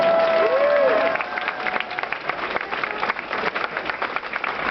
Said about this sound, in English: Can we get a round of applause for the suit?